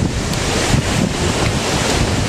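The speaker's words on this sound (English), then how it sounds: "at the beach. You can see the ocean behind me." Ocean surf and wind at a beach roar continuously and loudly, with heavy wind buffeting the microphone and no talk over the steady wash of waves.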